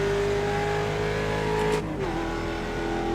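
A Mustang race car in the video game iRacing at Road America holds a loud, steady engine drone, briefly surging before dropping pitch at a gear change and continuing, close and continuous with no talk.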